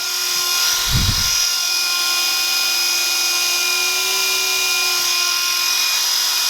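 A Flynova flying spinner toy whirs steadily in the air, a loud sustained buzzing drone with a brief low thump about a second in, no speech.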